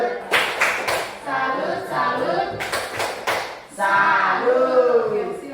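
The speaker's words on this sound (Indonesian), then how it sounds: "Tepuk tangan." A classroom group claps in short, sharp bursts, separated by pauses, with voices talking and cheering around the applause.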